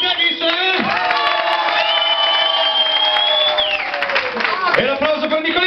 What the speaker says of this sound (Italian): andiamo per l'applauso